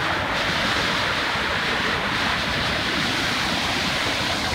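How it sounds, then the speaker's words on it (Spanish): Rushing water where a short river flows into another river at its mouth, a loud, steady broadband wash with some wind on the microphone and no talk. "Y ahí está, que desemboca en este otro río de acá."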